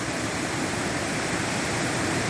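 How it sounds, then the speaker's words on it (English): A nice little waterfall on a solo canoe portage trail, heard as a steady, dense rush of falling water filling the air with no pauses and no voices. "Such a nice little waterfall."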